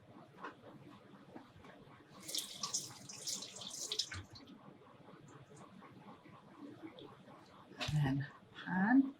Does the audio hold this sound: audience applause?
no